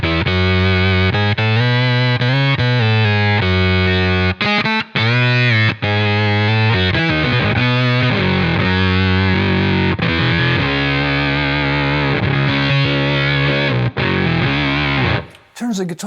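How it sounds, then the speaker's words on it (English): An electric guitar runs through a Bit Commander synthesizer pedal, giving a loud, thick, distorted synth-like tone with sustained notes and shifting chords that play continuously before cutting off near the end. "Turns the guitar into a synthesizer. It sounds like a Moog. And it's a pedal."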